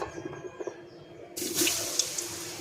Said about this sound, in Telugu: ఆయిల్ కూడా హీట్ ఎక్కింది. ఆయిల్లో వేసేద్దాము.